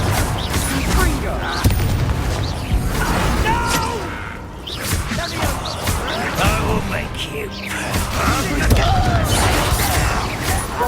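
A Confringo fire spell exploding in Hogwarts Legacy amid a busy combat mix of whooshes, thumps and crashes, with in-game voices speaking over the action.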